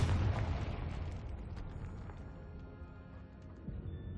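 A Confringo fire spell explodes in the game Hogwarts Legacy inside a tomb, with a heavy boom at the start that fades into a long rumbling decay.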